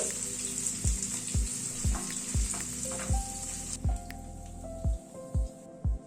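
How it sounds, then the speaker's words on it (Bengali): Paneer lightly frying in oil, a steady bright sizzle with regular thumping taps of a spatula or utensil against the pan, close-up, gradually quietening as the pieces are lifted out. "পনিরটাকে একটু হালকা করে ভেজে নিলাম তুলে নিচ্ছি"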